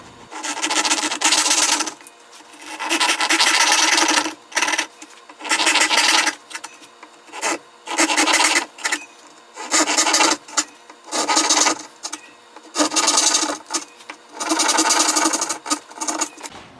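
Japanese ryoba saw cutting dovetail sockets in hard maple for drawer joinery, a loud rasping stroke repeated in steady bursts with short pauses between, close up and alone.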